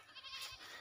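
A goat on a small farm gives a single short, faint bleat, heard alone.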